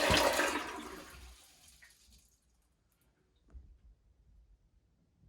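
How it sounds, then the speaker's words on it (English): A toilet flushing indoors: a loud rushing burst of water at the start that drains away within two seconds, followed by quiet gurgles and trickles as the tank refills. "And then you flush."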